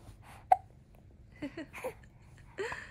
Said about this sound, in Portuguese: Ixi, soluço.